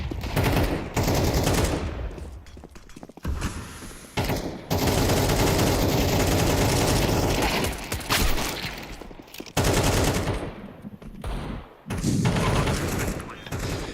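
Rapid gunfire bursts crackle through a Counter-Strike esports match at EPL Season 20, dense volleys broken by short gaps, mixed with ongoing caster commentary.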